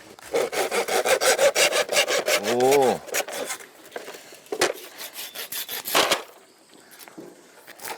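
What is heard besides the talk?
sawing wood with a hand saw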